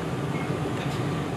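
Steady low rumble and rolling hum of an airport skytrain moving along its track, continuous and fairly close, with no talking.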